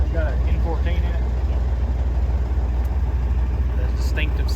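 A Cummins N14 engine idles in a truck with a steady, deep, rumbling drone, while a person talks over it nearby.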